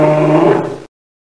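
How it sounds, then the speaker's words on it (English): A polar bear lets out a single short, close growling bellow lasting under a second, deep and harsh, then cuts off into silence. "Polar bear."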